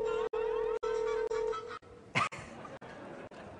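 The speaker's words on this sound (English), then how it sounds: "Nice ringtone." A phone ringtone plays a sustained electronic tone in short repeated bursts with brief gaps, followed by a quieter stretch with a short chirp.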